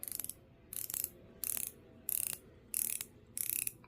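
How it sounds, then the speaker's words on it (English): Quiet bursts of rapid ratcheting clicks from the 120-click bezel of a Welly Merck WM157 automatic dive watch repeat about six times, each a short run of fine mechanical ticks with brief pauses between turns. "It's a 120 click bezel, and it's beautiful."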